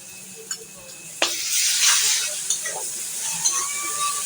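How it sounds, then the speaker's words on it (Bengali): Garlic paste sizzling and frying with browned onions in a pan, a steady close hiss with stirring scrapes and a few sharp clicks of a utensil, no talk over it. "পেঁয়াজটা ভাজা ভাজা হয়ে গেছে এখন রসুন বাটা দিয়ে দিচ্ছি"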